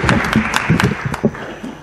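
Audience applause at an Italian talk on international politics and foreign investment, welcoming Ambassador Terzi di Sant'Agata: a dense, steady patter of many hands clapping close by, with a few sharper individual claps standing out.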